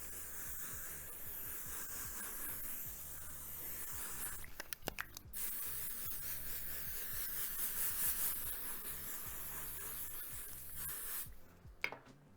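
Dry conditioner sprayed from an aerosol can onto a wig, a close, steady hiss held for long stretches with a couple of short breaks between bursts and a final stop near the end, with no talking.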